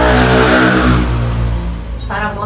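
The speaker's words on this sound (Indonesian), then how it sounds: "Suara motor." Motorcycle engine revving close by, a loud throaty roar that eases and fades over a couple of seconds, with brief talk mixed in.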